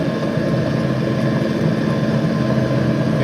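A ride-on mower engine labours while climbing a hill on a showground, giving a loud, steady, close engine drone with a deep rumble that holds throughout, with no voices.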